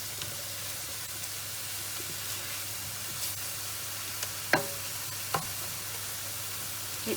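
Minced meat for chilli con carne frying and browning in a pan, giving a steady hissing sizzle throughout with a few faint clicks of a utensil near the end.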